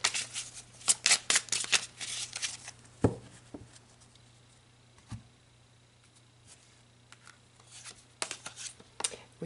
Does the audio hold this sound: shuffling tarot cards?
yes